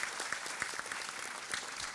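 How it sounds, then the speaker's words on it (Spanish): Audience applause during a session of a mining conference, a dense steady patter of many hands clapping at moderate distance, brief and even throughout. "Un aplauso."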